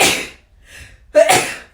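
A single person sneezes close by while putting on makeup, a short breathy intake followed by a sharp, loud burst.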